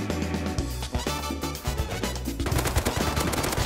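MP5 submachine gun fire in a raid-base survival video game, loud rapid bursts of automatic shots crackling in quick succession with brief gaps, close and continuous to the end.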